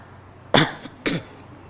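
Two separate bursts of a man coughing and clearing his throat, close and fairly loud, with a short quiet gap between them.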